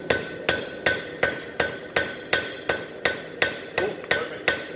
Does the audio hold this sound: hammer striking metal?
yes